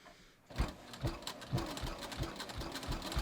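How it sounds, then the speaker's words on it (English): After a short quiet lead-in, a sewing machine stitches a short line through the folded seam allowances of a fleece hat. It runs in a close, steady rhythmic clatter of repeated needle strokes. "if you just fold those seam allowances up, and I'm literally just gonna sew maybe a half an inch"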